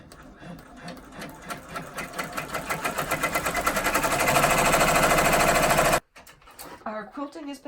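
An embroidery machine stitching stippling and leaves on an in-the-hoop mug rug, heard as a fast, even mechanical needle rattle building steadily louder, then stopping abruptly, followed by a few soft handling knocks.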